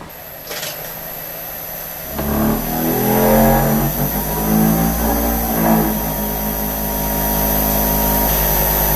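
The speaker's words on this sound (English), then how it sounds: "let me get the spindle started" CNC router spindle spinning up and running at about 3000 RPM, a loud steady whine that rises after a brief start and then holds evenly, with no talking.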